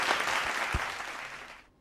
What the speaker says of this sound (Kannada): ಅದಕ್ಕೆ ನಾನು ನಿಮಗೆ ಚಪ್ಪಾಳೆ ಕೊಡಬೇಕಮ್ಮ